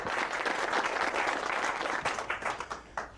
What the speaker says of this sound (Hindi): रेमी के लिए तालियां बजाओ।